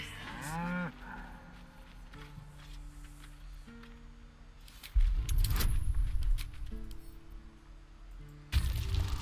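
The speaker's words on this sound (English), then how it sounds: "I'm gonna go buy this cow" A cow moos in Baldur's Gate 3, a clear close lowing call at the start, followed by steady droning game ambience and a few louder thuds and rumbles.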